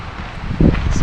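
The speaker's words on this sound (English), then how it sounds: "Some loud wind." Loud wind gusting over a lake surface near Estes Park, Colorado, a steady outdoor rush that swells into a stronger, fuller blast partway through.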